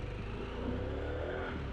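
A Harley-Davidson Pan America 1250 Special motorcycle engine starts up again after stalling, then settles into a steady, close idle rumble for a brief moment with no one talking.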